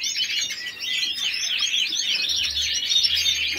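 A female Isabela canary chirps in a rapid, continuous run of bright tweets and trills, close and clear with nothing else heard, plus a faint low hum near the end.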